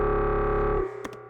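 Heavily distorted synthesized creature growl, a dense buzzing drone that holds steadily then cuts off abruptly, leaving a brief faint tail with a couple of short crackles.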